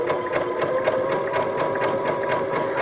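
A Baby Lock Crescendo sewing machine runs steadily through decorative stitching, its needle producing a fast, even mechanical chatter that is close and continuous, with no talking.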